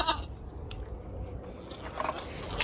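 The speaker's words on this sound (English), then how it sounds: "Sounded like a distress call from a goat, but it's not." A goat on a farm gives short, strained bleats in an urgent, distress-like tone. One comes at the start and others come near the end, over a steady background hum, with no talking.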